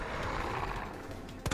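Gunfire in Resident Evil 2 Remake during the Ghost Survivors mode, a brief loud burst of shots with a sharp blast near the end, close and dense.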